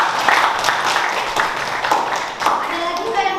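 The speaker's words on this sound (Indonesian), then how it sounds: "Tepuk tangan untuk Alfa." Classroom of students clapping for a classmate after a geography lesson presentation, a lively burst of hand claps with a few voices mixed in, close and fairly loud.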